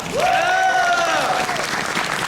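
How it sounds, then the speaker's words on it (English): A crowd at a fursuit exhibition during the Anthro Northwest 5 convention in 2023 applauds loudly, with a sustained rising whoop or cheer ringing out above the steady clapping. "Let's give him a round of applause."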